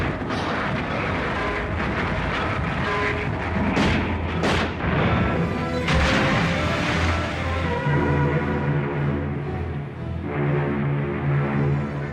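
Artillery fire at Dakar in 1940, heavy booming blasts rolling over a dense, continuous roar of guns and engine drone, loud and sustained throughout with no voices.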